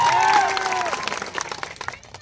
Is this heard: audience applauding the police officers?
yes